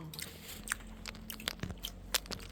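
Bites and chewing on a Pokémon-branded milk roll bread, with several soft, close crunchy bites scattered through a quiet indoor room and no talking.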